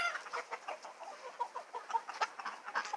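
Farm chickens cluck in soft, rapid, overlapping bursts, a busy flock heard at moderate distance with no talk.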